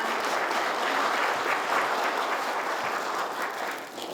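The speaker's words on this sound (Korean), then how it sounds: "축하하는 의미로 큰 박수 부탁드립니다." Dense, steady applause from a seated audience at a construction association general meeting awards ceremony, a broad wash of many hands clapping close by that fades slightly at the end, with no voices over it.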